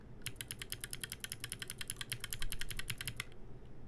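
Rapid, even keystrokes on a mechanical keyboard switch with only its spring lubed, a close run of crisp clacks with a light scratchy edge, over a low background hum.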